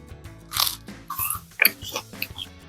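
Crunchy toast spread with Rumiano grass-fed European-style butter is bitten and chewed up close, giving several loud, crisp crunches in quick succession.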